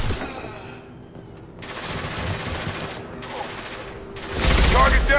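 Mass Effect 2's concussive shot fires amid combat, with a loud burst of blast and mechanical clatter near the end following scattered gunfire and battle noise.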